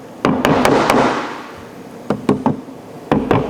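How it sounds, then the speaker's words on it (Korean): A hammer lightly taps parts together while a stool is assembled, with close, crisp knocks coming in quick bursts of three or four, separated by short pauses. "망치로 살짝 톡톡 쳐주시고"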